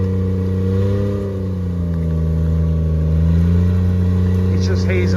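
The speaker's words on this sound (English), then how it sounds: "He's just hazing the tires a little bit." A vehicle engine revs steadily and loudly as its mud-covered tires spin for traction, the pitch rising and falling slightly over several seconds; voices are also detected.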